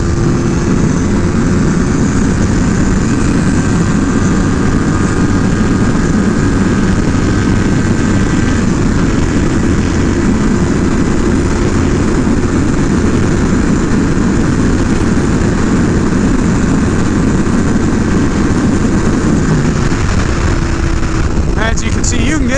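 Yamaha R3 motorcycle engine at full throttle in fifth gear on the highway at speed, a loud continuous drone heavily mixed with wind roar, with a rider's voice talking over it.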